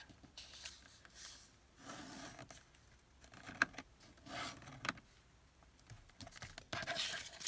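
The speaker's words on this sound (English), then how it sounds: "We'll fold it on the line." A paper tag wallet folded along a scored line: soft, close rubbing and creasing in short bursts with quiet pauses between, and no talk.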